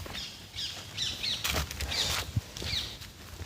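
Parakeets near a nest box give repeated sharp chirping calls at moderate distance over rustling and patter, with no voices.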